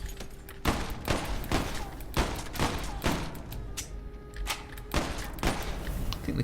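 Repeated gunfire from a weapon in the first-person shooter Immortal Redneck, loud bursts of shots spaced irregularly about every second with a dense rumbling game backdrop, no talking.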